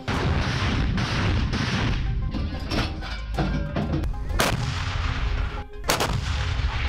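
Loud rolling booms and blasts from RBK-500 cluster bombs striking Ukrainian army positions, a dense continuous barrage of explosions with sharp cracks layered over heavy rumbling.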